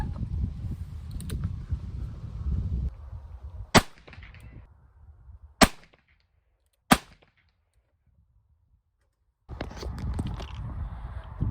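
A Ruger Bisley .44 Magnum revolver fires three sharp, loud shots spaced about a second or two apart, each one ringing out against quieter surrounding noise at an outdoor range.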